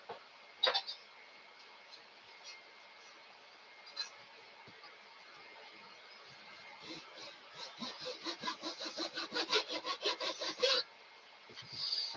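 A hand saw trims balsa-type wood parts for a model airplane wing, with a few isolated scrapes first, then a steady run of rhythmic back-and-forth strokes, close and fairly quiet, ending in a clink.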